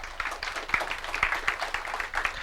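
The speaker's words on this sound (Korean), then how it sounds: "박수 한번 부탁드립니다" Applause from an audience at a Korean job-fair talk concert, a brief, fairly quiet burst of scattered clapping that carries on steadily without voices over it.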